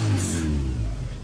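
A car engine revs up loudly during a driving lesson, a rising mid-pitched roar close by that holds steady and then eases slightly over a second or so, with no speech over it.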